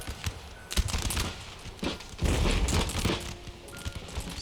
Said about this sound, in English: My infantry broke though, and is now taking heavy losses. Taking mortar fire.